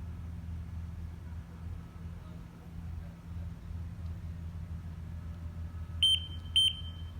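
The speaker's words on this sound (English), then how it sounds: "In this video, the beeps will represent the pyrotechnics firing." Two short, sharp electronic beeps from a BES device standing in for pyrotechnics firing, heard close together near the end after a long stretch of quiet low hum.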